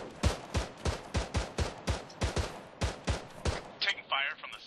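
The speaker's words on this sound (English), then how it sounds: "Taking fire from the southeast." Video game gunfire in a military shooter, a rapid series of sharp, evenly spaced shots over about four seconds, loud and close, followed by brief radio-style voice chatter.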